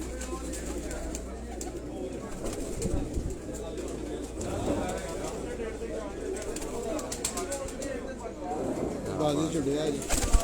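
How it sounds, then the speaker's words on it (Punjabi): Shahzor pigeons cooing at a pigeon-keeping loft, a steady low murmur of coos carrying on throughout at moderate volume alongside scattered fluttering and background noise. "ਇਹ ਸ਼ਾਹਜ਼ੋਰ ਕਬੂਤਰ ਹੈ ਜੀ"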